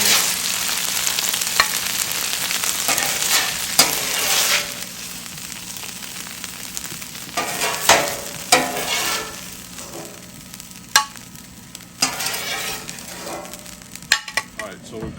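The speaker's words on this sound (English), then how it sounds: "we've cooked our ground beef" Ground beef sizzling in a hot pan while being stirred, with a steady crackling fry underneath and occasional sharp scrapes and clinks of a utensil against the pan.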